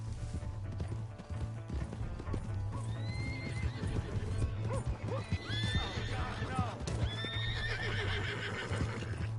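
Video game horses neigh and whinny repeatedly over the clatter of hooves, with shouting voices mixed in amid a busy, continuous scene.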